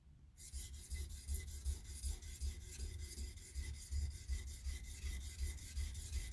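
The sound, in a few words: grinding knife bevel on a polishing stone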